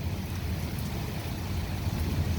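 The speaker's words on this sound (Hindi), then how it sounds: "आज का तूफान काफ़ी हवाओं के साथ है" Heavy rain driven by strong wind in a storm makes a steady, dense hiss and rumble, continuous and even throughout with no voices.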